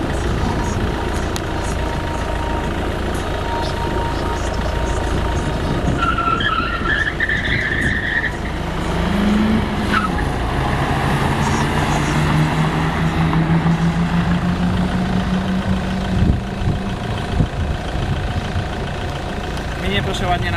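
A car pulling away at an airfield during a car enthusiasts' meet, steady engine rumble with tyre and road noise, fairly near and continuous, with a faint rising engine note partway through.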